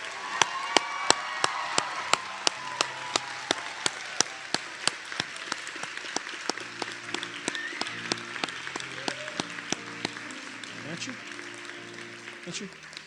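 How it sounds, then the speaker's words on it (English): Audience applause at a nursing school white coat ceremony, a thick wash of many hands clapping with a few sharp louder claps standing out, fading gradually toward the end while a voice talks over it. "Let's give them all one more round of applause, if you don't mind."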